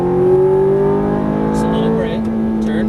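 A Ferrari F430 or Nissan GTR accelerates along a track, its engine holding a steady, rising tone up close through the whole stretch, with a voice briefly speaking over it.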